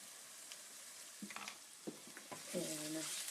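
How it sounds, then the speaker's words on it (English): Red pepper flakes sizzle quietly in a hot pan as they are stirred, with a few soft scrapes and clinks, low and close. "And I'm going to stir it again."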